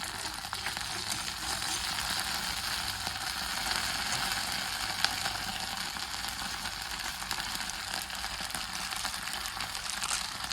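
Food sizzles steadily in a pan being stirred over low heat, a continuous bright hiss with faint scraping and clicks, close and moderately quiet throughout.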